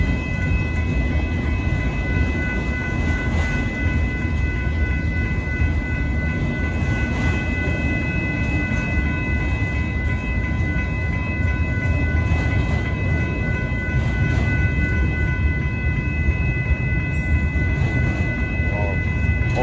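A northbound Union Pacific auto train rolls slowly past a road crossing at night, giving a loud, steady rumble with faint wheel clatter that holds for the whole stretch.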